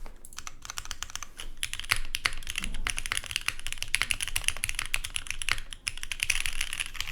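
Rapid, steady typing on a full-size Pangea mechanical keyboard whose long-pole switches bottom out, producing dense, close, fairly loud clacky keystrokes with no voices.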